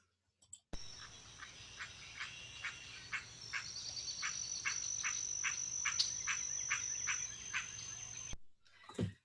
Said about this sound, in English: And then that's the green tree frog,